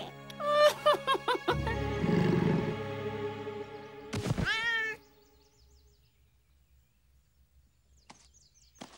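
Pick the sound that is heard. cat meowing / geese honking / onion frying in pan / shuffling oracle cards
cat meowing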